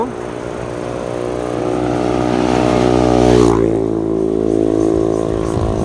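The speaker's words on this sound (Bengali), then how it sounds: "পোলাপানের বাইক চালানো দেখেন গাইস বেপরোয়া" A motorbike engine roars past up close, ridden recklessly, pitch climbing then dropping sharply as it goes by, with engine noise continuing afterward.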